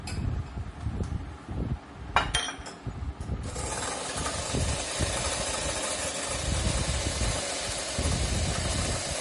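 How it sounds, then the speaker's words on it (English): Egg white with salt being whipped: a loud, steady whirring drone that starts a few seconds in and runs without pause, after a brief rattling start. "Take some salt and add this to this egg white, and you start whipping it up"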